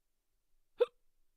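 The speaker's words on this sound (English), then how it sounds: "Yeah, the hiccups." A single sharp hiccup, brief and fairly close, standing alone in an otherwise quiet moment.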